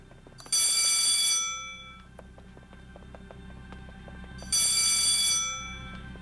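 A telephone at a booth in Disney Infinity 3.0 rings in two loud electric bell bursts about four seconds apart, each ringing for about a second before fading over quiet game ambience.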